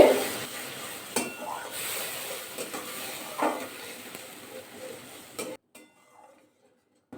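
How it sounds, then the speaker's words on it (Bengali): A ground poppy seed and mustard paste with green chillies and a splash of water fries in a pan while being stirred. It gives a soft, close sizzle with occasional scraping clinks, then falls almost silent near the end. "ভালো করে মশলাটা কষিয়ে দিতে হবে"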